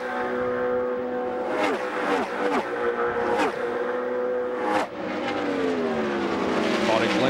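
IndyCar race cars at the 1999 Indianapolis 500 scream past in quick succession, with engines rising in pitch under acceleration and Doppler drops as each passes, the roar steady and loud throughout.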